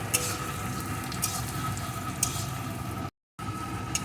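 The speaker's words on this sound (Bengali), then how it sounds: "পেঁয়াজ কুচিটা একটু ভেজে নেব।" Chopped onion frying in hot mustard oil in a pan, giving a steady, close sizzle that runs without pause apart from one brief dropout near the end.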